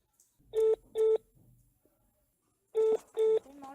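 Telephone dialing tones during a phone call: two pairs of crisp, loud keypad beeps separated by a short pause, each tone steady and clean with a faint trailing tone after the last pair.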